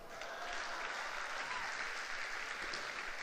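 Steady applause from a conference audience at an autism awareness event, a dense, even patter of many hands clapping throughout at moderate distance.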